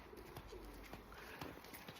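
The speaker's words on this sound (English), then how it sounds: "You hear those pigeons?" Pigeons coo softly outdoors in a wet grassy garden on a morning, a faint, low murmur blending with light background ambience, no talking.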